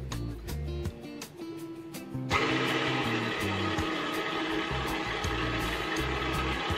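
An electric hand mixer whirs at low speed through rainbow roll cake batter. Soft knocks come first, then the motor kicks in abruptly and holds a steady, fairly loud buzzing drone to the end.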